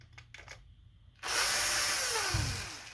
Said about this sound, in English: we're using the T9 bit for these ones, because these screws are smaller